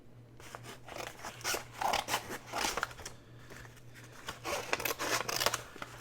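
A mail package is torn and cut open up close, with crisp crinkling, ripping and scissor-like crunches in irregular bursts over a low steady hum, and no talking.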